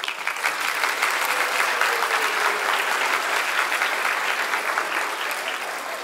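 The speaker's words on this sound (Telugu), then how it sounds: "ఒకసారి క్లాప్స్ కొట్టండి" An audience claps at a music concert during an Ugadi celebration, a dense, sustained round of applause that holds steady and eases slightly toward the end, with no talking.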